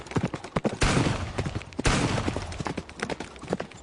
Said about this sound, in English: Holy shit, we're being shot at!